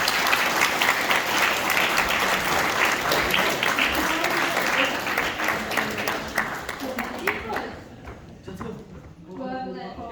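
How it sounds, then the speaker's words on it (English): A graduation audience applauds with loud, sustained clapping that gradually fades, followed by voices speaking near the end. "give these 3 young men a big clap, please"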